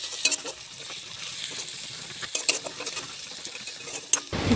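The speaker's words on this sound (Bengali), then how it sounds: "কড়াইতে তেল দেওয়া হলো, তেলের মধ্যে পেঁয়াজ, লঙ্কা দিয়ে ভালো করে একটু ভাজা হবে" Onions and green chillies fry in oil in a wok with a soft, continuous sizzle, punctuated by a few sharp clinks of a utensil against the metal, heard up close and without talk.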